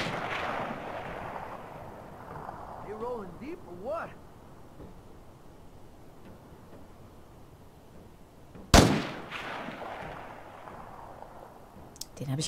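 Gunfire in State of Decay 2: one sharp, loud shot cracks out after a long quiet stretch, with a fainter shot near the end, while someone talks in a game voice earlier on.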